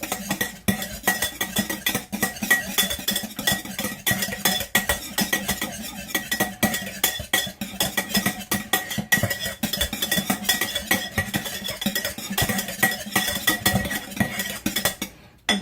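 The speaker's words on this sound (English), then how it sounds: "Alright, so now we're going to need the old whisk. You want to whisk all your sauce." A whisk beating sauce in a bowl for a Southwest pasta salad, giving a fast, steady run of light metallic clicks and scrapes that carries on unbroken, close and fairly loud.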